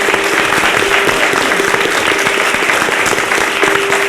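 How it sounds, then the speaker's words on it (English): A large audience at a Pennsylvania 11th District Senate debate applauds the two candidates, a dense, loud, continuous burst of clapping heard up close for the whole stretch. "So how about a huge round of applause for these two candidates?"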